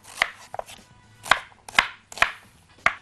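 Onions being chopped on a cutting board, five sharp knife thuds at an uneven pace over three seconds, close and distinct, with no talking.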